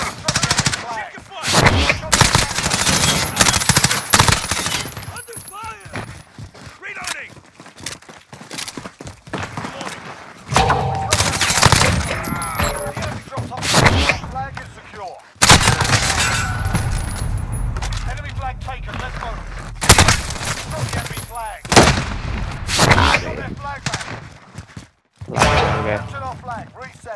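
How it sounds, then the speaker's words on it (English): Video game gunfire during a capture the flag match: repeated bursts of automatic fire and single shots, loud and close, broken by brief pauses, with voices talking over the shooting. "Under fire."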